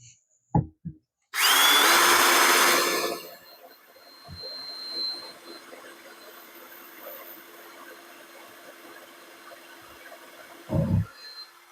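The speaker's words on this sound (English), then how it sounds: "I drilled the hole slightly down, a down angle." A power drill bores a hole at a slight downward angle, a loud steady whine lasting about two seconds near the start, then fading to quiet workshop background with a few faint knocks and a short burst near the end.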